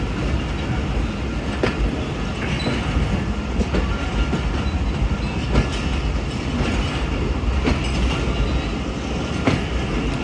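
Rehman Baba Express passenger train on its run from Rawalpindi to Faisalabad, rolling on rails with a loud, steady rumble from inside and periodic clickety-clack wheel beats throughout.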